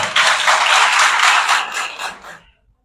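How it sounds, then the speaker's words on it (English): An audience claps for two students about to read a poem at a school celebration of African Liberation Day, a dense burst of hand claps lasting about two seconds before tapering off into silence. "Clap for them."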